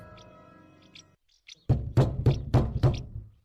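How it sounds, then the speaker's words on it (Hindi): A series of about five heavy, hollow knocks on a door, loud and close in a steady rhythm, following a moment of fading background music. "तब से खटखटा रहे हैं"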